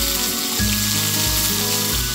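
Garlic and onion sautéing in a pan at a car campsite, a steady close sizzle with a low bubbling undertone, continuous and fairly loud, with no talk.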